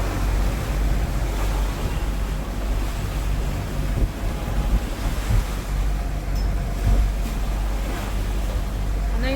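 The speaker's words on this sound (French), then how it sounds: "On a une belle houle de 2 mètres environ" Two-metre sea swell and strong wind buffet a sailing boat just after a squall in the Grenadines near Bequia, a steady, loud broadband roar of rushing water and wind noise across the microphone with no speech.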